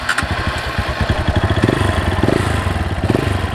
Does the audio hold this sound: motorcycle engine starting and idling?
yes